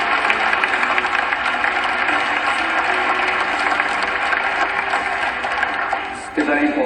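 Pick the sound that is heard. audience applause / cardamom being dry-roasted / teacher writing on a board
audience applause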